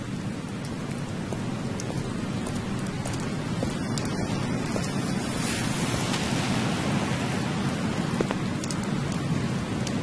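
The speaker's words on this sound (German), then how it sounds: "Verdammt, es schüttet." Heavy, steady pouring rain in the PC game Overclocked, a dense continuous hiss and wash at constant loudness with no voices.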